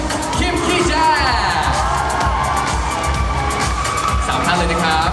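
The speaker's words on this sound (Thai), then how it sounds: "ขอเสียงปรบมือด้วย" A stage-event audience at a JYP Thailand photo session bursts into loud, continuous cheering and clapping, a dense crowd roar with whoops and shouts sustained throughout.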